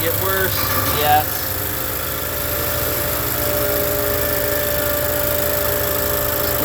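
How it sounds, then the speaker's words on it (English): A Honda Accord idles steadily with a low, constant engine drone and faint exhaust noise, a brief rise near the start, then an even hum throughout. "They also have some exhaust noise that I'm going to investigate right now."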